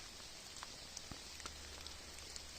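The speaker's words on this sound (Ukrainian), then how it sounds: "Дощик паде, гори вкутані туманом." Light rain falls in a misty Carpathian mountain forest, a soft steady patter with scattered individual drips, quiet and without voices.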